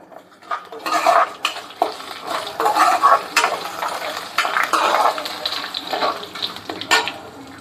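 Ingredients for biryani roasting in a pan as a spoon stirs them, metal scraping and clinking in bursts over a soft sizzle, with a voice speaking briefly at moments.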